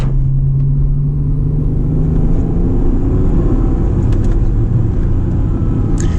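Steady low engine rumble of an Acura NSX being driven hard over bumpy New Jersey and Pennsylvania roads, heard from the cabin as a constant drone with faint road thumps and no talking.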